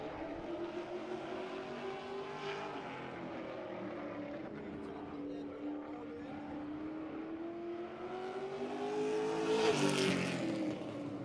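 A sportsman-class race car circles a dirt oval track during a season opener, its engine droning steadily at a distance and swelling louder as it passes near the end.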